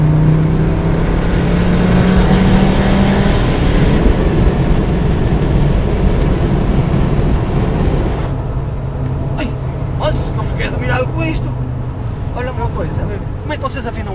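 A Mercedes 190 engine runs and revs, a steady droning hum with rising throttle, while people talk nearby over the motor's sound.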